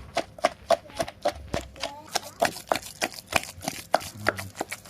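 A pestle pounds fermented soybean paste in a mortar with repeated sharp, fairly regular thuds, close and clear, with a few faint background sounds between strikes.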